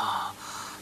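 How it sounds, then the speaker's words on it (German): A sharp gasping breath in a German crime radio drama, loud and close, one quick intake that fades into a softer breathy tail. "Zuerst keuchen"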